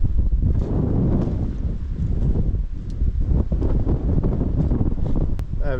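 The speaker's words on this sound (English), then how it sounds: "Very windy, but incredible view." Strong wind on a hilltop, loud gusty buffeting that rumbles steadily across the microphone, with no clear speech.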